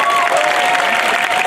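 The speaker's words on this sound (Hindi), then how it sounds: "वेलकम करो उनको तालियों से" An audience claps to welcome a performer onto the stage at a university film festival, a brief burst of crowded, busy applause with a faint tone ringing through it.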